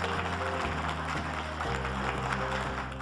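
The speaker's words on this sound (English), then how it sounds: "If we could give our panelists a round of applause." A room full of audience members applauds panelists after a discussion, steady dense clapping that holds for a few seconds, with low tonal sound underneath.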